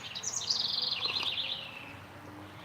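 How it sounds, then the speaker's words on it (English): Birds singing outdoors before sunrise, a bright warbling, chirping phrase up close that fades out, over a faint background hum, with roosters nearby on a rural morning. "Right now it's me and you and the birds and the roosters"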